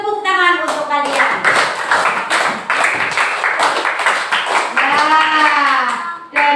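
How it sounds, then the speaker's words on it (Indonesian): A classroom of children clapping together in a quick, rhythmic pattern, loud and close, mixed with a teacher's voice and children's voices talking and chanting over the claps. "Tepuk tangan untuk kalian."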